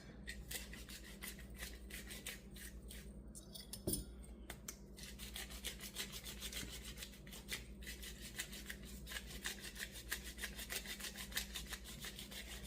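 An electric grinder steadily grinds whole cloves, giving a continuous raspy, gritty whir with a brief clatter partway through, close and alone with no talk.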